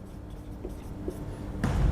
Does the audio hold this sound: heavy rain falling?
no